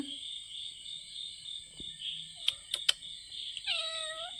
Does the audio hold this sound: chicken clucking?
no